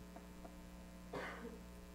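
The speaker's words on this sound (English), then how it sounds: "You have to excuse my cough there." A single short cough from a speaker at a town council meeting, brief and fairly quiet, over a steady background of electrical mains hum in the room.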